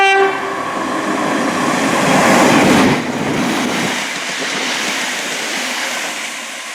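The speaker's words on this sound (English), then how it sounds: "It is honestly interesting at this location seeing some fast Merseyrail trains passing through this station." A fast Merseyrail electric train passes through Bromborough Rake station: a brief horn note at the start, then a loud rushing roar with wheel clatter that peaks and gradually fades as it recedes.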